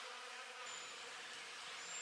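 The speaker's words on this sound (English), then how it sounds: "this to me looks like just bees coming in and stealing the honey that was left over from when we harvested these frames" Honey bees buzzing around harvested hive frames, robbing leftover honey: a continuous faint drone of many wings, steady and close, with no voices.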